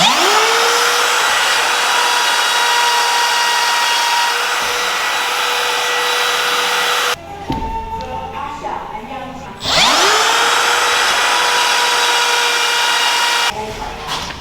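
A plunge router test-cutting wood at a set depth during a gym build: a loud, steady high whine that spins up, drops out briefly with clattering, then spins up again and runs on, with a short pause near the end.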